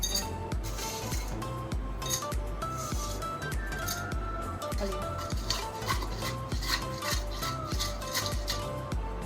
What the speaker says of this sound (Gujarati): બરફના ટુકડા એડ કરીશું